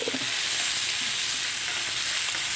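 Plenty of garlic frying in a pan alongside steak, a steady broadband sizzle that stays even and close throughout with no talking.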